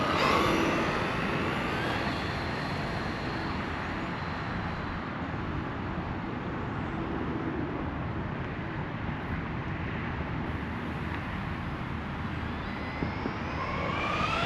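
A Traxxas Rustler 2WD VX3 electric RC car runs flat out at full throttle near 60 mph, making a steady, loud, high-pitched motor whine that holds without a break throughout.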